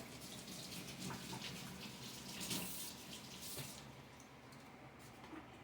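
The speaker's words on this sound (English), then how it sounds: "Let me wash my hands." A tap running into a kitchen sink while hands are washed, a steady soft rush of water with faint splashes, fairly quiet and easing off near the end.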